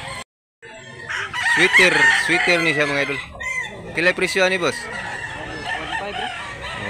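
At a gamefowl farm in Mantalungon, Barili, Cebu, a rooster gives several drawn-out crows close by, with other birds clucking in the background, while someone talks over them.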